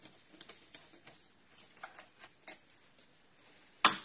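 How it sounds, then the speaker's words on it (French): A small ratchet with a 10 mm socket and an extension loosens screws on a Hyundai Getz, giving a series of faint, light clicks in uneven bursts, ending with one sharper, louder tick. "avec une douille de 10, hop, un petit cliquet, une rallonge."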